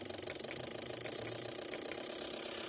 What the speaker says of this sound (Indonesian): kita akan naikkan dulu untuk RPM-nya di 1000 RPM biar supaya men-trigger si extra fan sama magnetic cloud